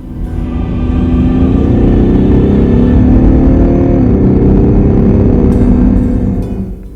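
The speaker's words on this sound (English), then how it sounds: "The engine is so silky and rumbly, it would leave you wondering if it were in fact a diesel" A BMW X7 six-cylinder diesel SUV accelerates hard with a smooth, deep engine rumble that rises steadily, dips briefly as it shifts, then pulls on loudly and continuously with no talk.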